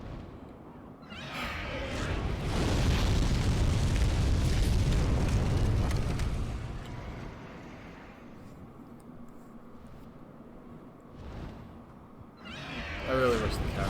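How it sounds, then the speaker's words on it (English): Cats fighting in the game Demon's Souls, a loud sustained yowling and screeching clash over rumbling noise, fading into quieter ambience with talk near the end. "I really wish the cats would stop fighting."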